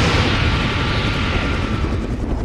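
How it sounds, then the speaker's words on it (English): Enemy attack helicopter in the Reign of Fire video game, a dense continuous roar of rotor and engine noise holding loud and steady throughout with a faint rumble beneath. "We've got a chopper as well on top of that."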